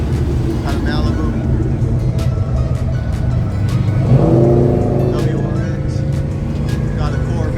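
An Oldsmobile 442 rumbles past at a San Mateo cruise night, its low engine note swelling briefly as it goes by, under steady outdoor crowd noise and close conversation throughout.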